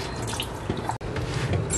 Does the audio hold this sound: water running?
yes